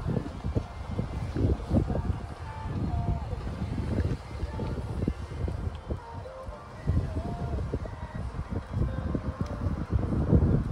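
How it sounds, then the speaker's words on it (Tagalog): Strong wind buffets the microphone at a cold seaside on Tung Ping Chau, a steady low roar of gusts with voices talking intermittently over it. "So windy."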